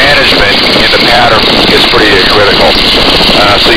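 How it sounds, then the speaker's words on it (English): Boeing Stearman N2S-3 biplane engine drones loudly and steadily in flight, a continuous roar under a voice talking throughout. "you get real used to listening to the airplane"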